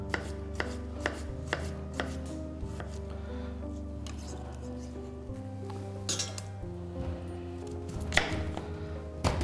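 A knife chops potatoes rapidly on a cutting board in bursts of sharp taps, close up, over soft background music.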